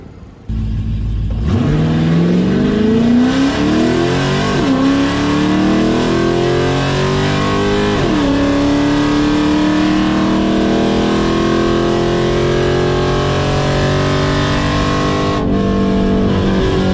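Drag race car making a test pass at a test-and-tune session at Heartland Motorsports Park in Topeka, Kansas, its engine revving loud and close, climbing through gear changes for about fourteen seconds before cutting off.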